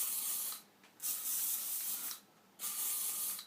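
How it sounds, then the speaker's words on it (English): Hairspray misted onto hair from an aerosol can in three bursts, each a steady bright hiss lasting about half a second to a second, close and fairly loud, separated by short silences. "all you need then is a mist of hairspray"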